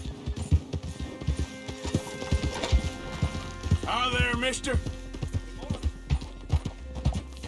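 Horse hooves clip-clop steadily in the Red Dead video game, with a short whinny partway through, while a voice talks over them.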